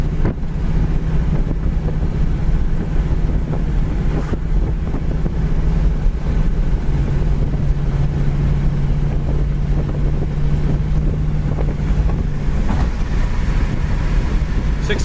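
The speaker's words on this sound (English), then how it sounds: "this thing just cruises down the road great." A 1979 Pontiac Trans Am cruises at highway speed around 2,000 RPM, giving a steady low engine drone and road rumble mixed with heavy wind noise throughout, with no talk.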